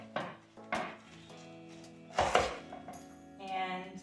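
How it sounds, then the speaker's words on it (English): A large kitchen knife slices a whole cabbage in half for homemade sauerkraut, giving a few crisp chopping thuds and crunches against a cutting board, close and distinct, with a louder cut near the middle. "you wanna start just by cutting the cabbage in half"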